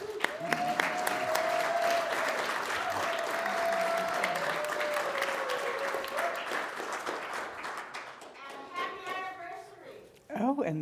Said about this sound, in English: So if you could, for a round of applause.